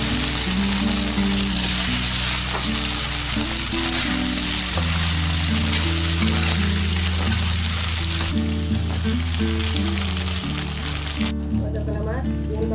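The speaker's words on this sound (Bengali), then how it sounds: "এখন আমি ডিমের পিসগুলা পালা করে ভাজবো।" Egg pieces fry in hot mustard oil in a wok, a steady close sizzle running throughout beneath loud background music with strong tonal bass.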